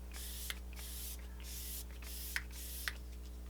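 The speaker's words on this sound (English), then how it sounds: "We're gonna use our ColourPop Pretty Fresh Setting Spray with hyaluronic acid." Several short, hissing bursts of ColourPop Pretty Fresh setting spray with hyaluronic acid mist out in a steady rhythm, close and fairly quiet over a faint electrical hum, with no talking.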